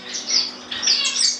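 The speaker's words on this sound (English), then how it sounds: "They are beautiful birds, but very fast and small" Cuban finches, small fast birds kept in an indoor bird room, give repeated high, thin chirps in quick bursts, close by and fairly clear, with no talking.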